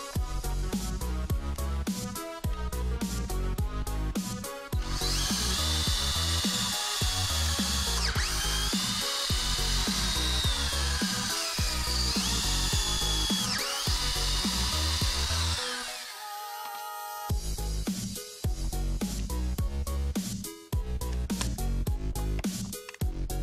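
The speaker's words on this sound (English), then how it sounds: "we're gonna drill some holes into it" A power drill bores holes into scrap wood for climbing holds, with a long sustained whine rising and falling as the bit bites, set between stretches of clattering handling and shorter drill bursts, all close by.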